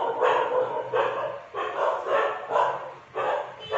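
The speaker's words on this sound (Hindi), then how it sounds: "ये कुत्ते इतना ज़्यादा क्यों भौंकते हैं पता नहीं।" Dogs bark repeatedly at a distance in an area full of dogs, about five loud rough barks in an uneven rhythm with short gaps, and no talking over them.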